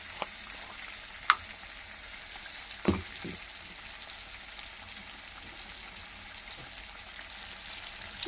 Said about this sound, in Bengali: এবার ভালো করে আমি মশলাটাকে আগে আস্তে আস্তে কষিয়ে নেব।